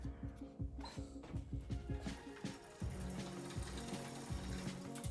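A Dahon Mariner D8 folding bicycle is folded, giving a rapid run of close ratcheting clicks from its turning parts, then a steadier mechanical rattle, with no voices.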